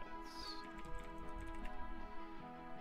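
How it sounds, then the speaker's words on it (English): Computer keyboard keys typed in quick irregular clicks, faint and close, with music and tones from a game running underneath. "You will hear my keyboard."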